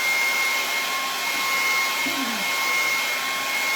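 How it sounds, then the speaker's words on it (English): A hair dryer blows steadily throughout, a constant broadband whoosh with a faint high whine, no pauses. "hairdryer and just give that a bit of a dry off."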